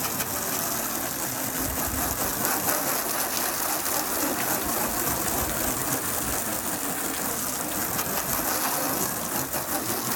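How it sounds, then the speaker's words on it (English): A pressure washer or hose rinses water over a car door after a Hydro2 coating is misted on, a steady loud hiss and gush of spray with a motor hum underneath, continuous and close throughout. "So I'm gonna rinse that door off too so it doesn't get all fucked up and stuff."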